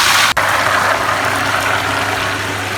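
Soaked semolina poured into browned sugar for makhandi halwa sets off a loud, steady sizzling splatter, with one sharp crack near the start and a continuous hiss after it.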